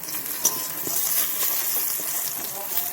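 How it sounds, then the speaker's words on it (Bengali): Eggplant slices sizzling and crackling in hot oil in a partly covered pan, a steady close frying hiss with a few stirring clicks. "তো আগে বেগুন ভাজাটা হয়ে যাক, তারপর এটাকে ভেজে নেব।"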